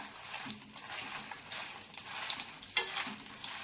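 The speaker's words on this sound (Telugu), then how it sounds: "ఇప్పుడు ఎండుమిరగాయలు వేసుకోవాలి. 50 గ్రాములు ఎండుమిరగాయలు తీసుకున్నానండి. వేయించుకోవాలి." Dried red chillies fry in hot oil with a soft, steady sizzle and occasional stirring clinks, fairly quiet and close, without speech.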